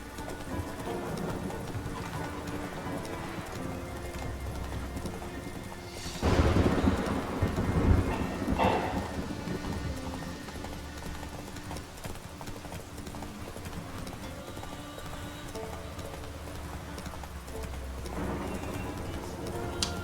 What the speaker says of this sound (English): Come on, Roach. This fucking horse.